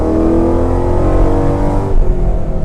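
A 2012 Ford Mustang GT with the 5.0 V8, six-speed manual and light bolt-on modifications rumbles and revs loudly at close range, a deep steady engine roar that drops off and surges again briefly.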